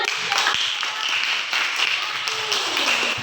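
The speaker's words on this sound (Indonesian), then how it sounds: "Betul, tepuk tangan." Schoolchildren in a class clap their hands together, a lively uneven patter of many small claps at moderate loudness, with a faint voice murmuring beneath.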